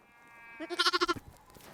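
A newborn lamb, only a few days old, bleats once in a short, wavering burst, close and clear against a quiet background with no talking.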